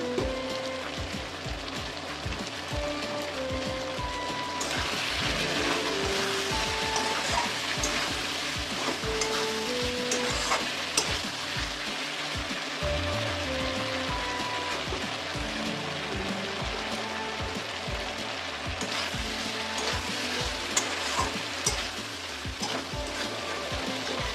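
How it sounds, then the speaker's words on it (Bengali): Vegetables sizzle steadily in fish oil with cumin and ginger paste during a Bengali fish curry preparation, a dense, continuous frying hiss with occasional crackles and no talking. "মাছের তেল দিয়ে জিরে আদা বাটা দিয়ে সবজিটা একটু কষিয়ে নিই"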